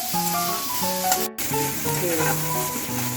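Chopped onion fries in a pan with a loud, continuous close sizzle, while spatula strokes add a few brief scraping accents and one short sharp break in the middle.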